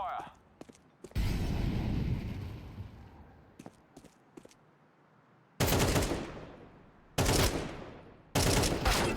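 Bursts of rapid video game gunfire: a few sharp isolated shots, then a long heavy volley that fades, followed by three more loud sustained bursts close up, with no talking.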